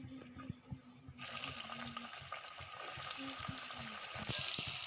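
Battered vegetable pakoras coated in cornflour drop into hot oil and burst into a loud, steady hissing sizzle that runs on to the end, after a brief quieter stretch with a voice and light kitchen sounds.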